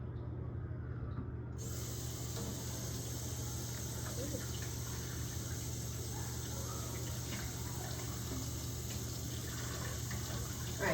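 Dishes rinsed under a running kitchen tap, a steady hiss of flowing water that holds even and continuous throughout, close by.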